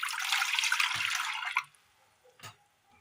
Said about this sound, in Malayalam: അടുപ്പത്തൊരു ചട്ടി വെച്ച് കൊടുത്ത് അല്പം വെള്ളം ഒഴിച്ചു കൊടുക്കാം.